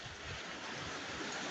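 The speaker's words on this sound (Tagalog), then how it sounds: "Grabe ang alon guys." Heavy surf of ocean waves at Baler in rainy weather, a steady dense wash of breaking water heard continuously without pauses or talk, fairly faint and constant.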